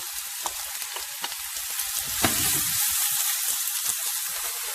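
Sliced onion hitting hot oil in a pan after mustard seeds have popped, a sharp burst of sizzling that settles into a steady, close frying hiss with scattered crackles.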